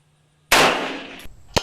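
A 6.5 Grendel AR-15 round strikes a steel target at an outdoor range, giving one sharp, loud metallic clang with a ringing tail, followed by a brief second knock and another sharp hit at the end.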